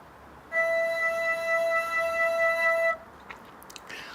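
A single steady flute-like tone comes from a computer instrument controlled by blowing into a tube, holding for about two and a half seconds before cutting off cleanly. It is fairly soft over a quiet background.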